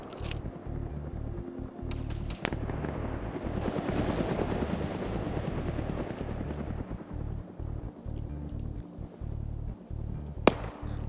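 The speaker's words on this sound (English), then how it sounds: "So now the helicopter's looking for him." Helicopter in a military video game raid, a continuous loud rotor thrum and engine roar dominating throughout, with a few sharp impacts or shots at the start and a sharp crack near the end.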